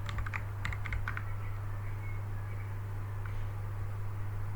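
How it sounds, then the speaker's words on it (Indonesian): Quick bursts of keystrokes on a computer keyboard as a network command is typed, fairly quiet over a steady low electrical hum, then the typing trails off. "Kita bisa ketikkan lookup."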